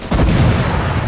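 Heavy booming gunfire from a WWII battle in Call to Arms - Gates of Hell on the Eastern Front, loud and dense, with a sharp burst that rolls into a sustained rumbling roar for about a second.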